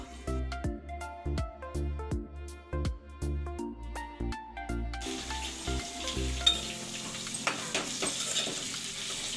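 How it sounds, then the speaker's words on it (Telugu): Potatoes for a potato fry are stirred in a pan, rhythmic scraping knocks at first, then a brighter, hissing sizzle swells up close and continues with occasional stirs, no one speaking. "ఇప్పుడు బంగాళాదుంప ఫ్రై చూద్దాము"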